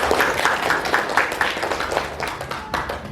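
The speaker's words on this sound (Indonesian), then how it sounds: "Aplaus untuk kita semua." Applause in a classroom: a brief burst of scattered, overlapping hand claps from a group of students, moderately loud and close, fading slightly toward the end.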